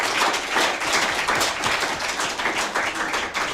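A studio audience at a live children's reality TV show gives a sustained round of applause, dense and steady clapping throughout with no voices over it.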